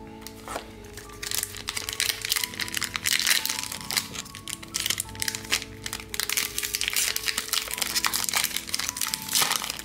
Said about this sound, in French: Mais les boosters sont ultra chiants à ouvrir.